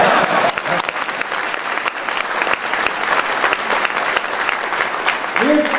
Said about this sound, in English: This is where you're supposed to clap